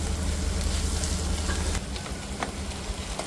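Whole cloves, star anise, black and green cardamom, black pepper and a cinnamon stick sizzle in hot oil, a steady close crackle that eases slightly partway through, with occasional stirring clicks.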